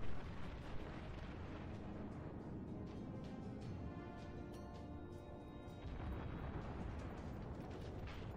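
Continuous loud roar of naval gunfire and explosions in a World of Warships battle, with a thick rumbling wash and repeated sharp bursts layered over a constant battle din.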